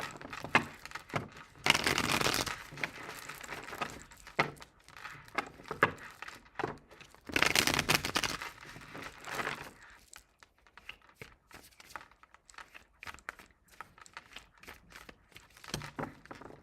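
Tarot cards riffle and shuffle in two louder rustling bursts and a scatter of softer crinkly handling between them, close by and without talk.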